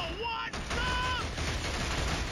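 Machine gun fire in Killzone HD, a dense, continuous rattle of shots layered with game effects over a short stretch.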